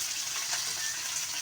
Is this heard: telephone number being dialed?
no